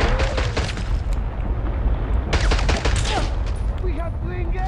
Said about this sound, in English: shotgun's awesome.